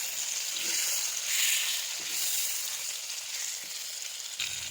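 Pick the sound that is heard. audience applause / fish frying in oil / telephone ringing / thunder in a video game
fish frying in oil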